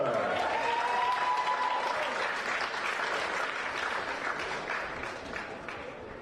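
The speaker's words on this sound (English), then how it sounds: "And please keep the applause going for Nightmare's Will Porter." Steady applause from a large crowd at a Golden Gloves boxing championship, loud and sustained throughout, tapering slightly toward the end, with a faint voice or whistle early on.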